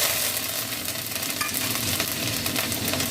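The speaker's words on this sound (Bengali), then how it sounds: "এই ক্যারি পাতাটা ফোড়নে দিয়ে দিলাম" Curry leaves crackle and sizzle in hot oil during tempering, alongside a pinch of asafoetida, a dense, bright, steady frying hiss with small pops, close and loud, without voices.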